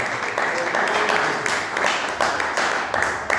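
A church congregation applauds during an evening worship service, a dense sustained clapping of many hands that rises and falls in waves for several seconds.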